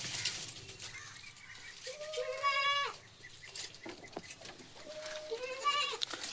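A young crossbred goat kid bleats twice up close, each cry wavering and a second or so long, over soft background noise and scattered faint bird calls.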